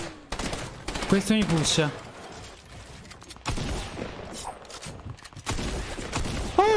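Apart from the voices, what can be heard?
gunfire shooting at the player in a video game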